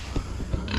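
A few short, low pig grunts close by on a farm in the Philippines, brief and snuffling, with no speech.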